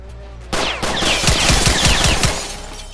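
Gunfire in the video game South Bronx The Trenches: a loud burst starts abruptly and is followed by a rapid run of close, punchy shots lasting about a second.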